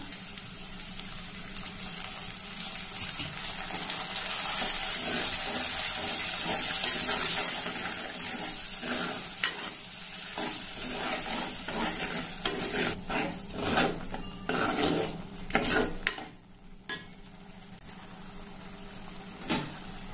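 Onions sautéing in a pan for Nagercoil-style sundakkai kuzhambu, a steady close sizzle with scraping stirs and clinks throughout, no voices.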